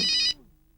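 A mobile phone ringtone from a Thai ringtone-download television advertisement, circa 2000, chimes brightly and loudly for about a third of a second, then cuts off into a quiet tail.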